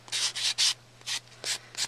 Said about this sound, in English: I'm going to go around and just do some quick sanding